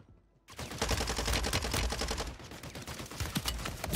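Rapid bursts of automatic gunfire in Warzone's Rebirth Island, loud and dense, starting abruptly after a brief quiet and continuing almost without pause.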